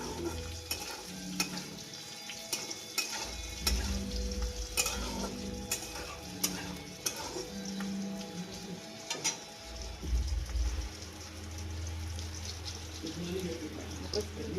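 A spoon stirs hotel-style paneer tikka masala in a pan, giving quiet scraping strokes over a soft sizzle, with intermittent clinks against the pan.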